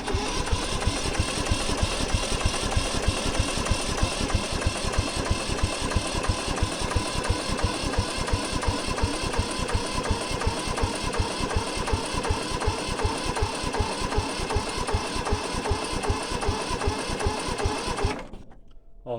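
A ride-on mower engine being set up as a branch chipper fires up and runs with a loud, rapid, steady chugging pulse for about eighteen seconds, then cuts off abruptly.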